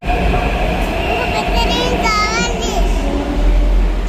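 A metro train at a station platform: a loud, continuous rumble and hum of the train with faint rail clatter, while voices speak over it.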